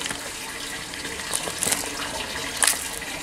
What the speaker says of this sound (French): on arrose